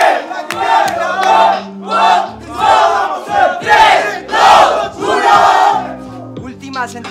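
A crowd at a freestyle rap battle tournament in Paraguay cheers and chants loudly in rhythmic waves of massed voices, with a thumping bass beat underneath.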